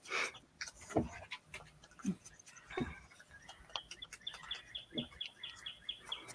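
A pet bird gives short chirps and tweets at moderate distance, with a run of quick repeated high calls near the end, over a quiet room with faint ticking.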